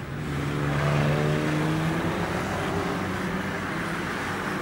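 Old banger racing cars rev and accelerate away together at the start of a race, a dense, steady engine roar that rises then holds at a constant level with no voices.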